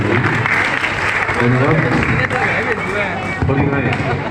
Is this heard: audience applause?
yes